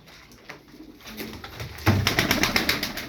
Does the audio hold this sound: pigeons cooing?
yes